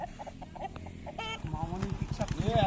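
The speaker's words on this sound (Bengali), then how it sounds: "মুরগি মুরগি ঝগড়া করে দিচ্ছে" Chickens fighting, squawking and clucking agitatedly in a rapid, noisy burst, with a voice talking nearby over the commotion.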